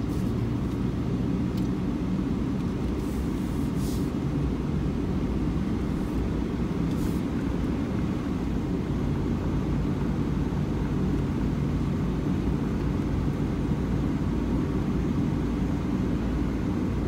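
A gasoline pickup truck strains uphill while pulling a dump trailer, a steady, loud, broad engine and road roar that holds constant throughout with no talking.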